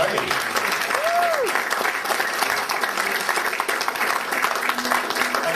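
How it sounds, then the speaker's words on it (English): An audience claps and cheers for singer Lonnie Lee at a live show, dense sustained applause filling the room throughout, with a brief whistle near the start. "let's have a round of applause for the man, Lonnie Lee."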